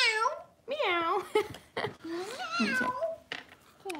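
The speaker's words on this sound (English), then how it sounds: "Kitty! Is it a kitty?" A cat meows several times in a row, loud and close, with drawn-out, rising and falling calls; a person speaks between the meows.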